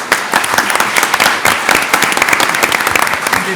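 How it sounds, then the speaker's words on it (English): An audience at a panel session on programs for Latino communities breaks into loud, dense applause, many hands clapping steadily throughout with no talk on top. "another round of applause"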